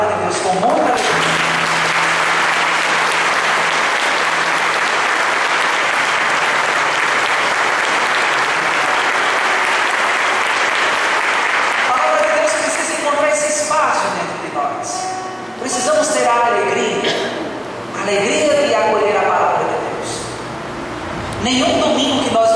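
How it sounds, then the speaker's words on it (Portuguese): Church congregation at a Sunday Mass in João Pessoa bursting into loud, sustained applause that fills the space, then thins out into scattered clapping as the crowd settles. "vamos agora aplaudir a palavra de Deus com muita alegria"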